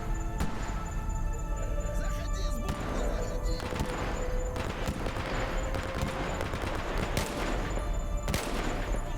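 Several sharp gunshot cracks ring out over a dense, busy soundscape in the video game S.T.A.L.K.E.R. Anomaly, spaced irregularly across the clip.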